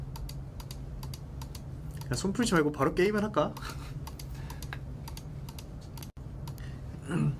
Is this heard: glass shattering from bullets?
no